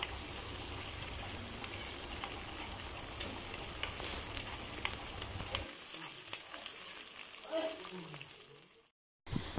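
Curry leaves, ginger, chilli and garlic fry in hot oil with a steady, close hiss and crackle. The sizzle thins partway through, then cuts out briefly near the end.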